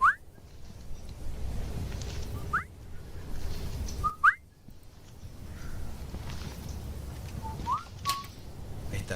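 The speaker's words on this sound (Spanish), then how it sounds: "Escucha los pajaritos." Small birds give several short, bright chirps and whistled notes in scattered bursts over a soft, steady background noise, with no talking.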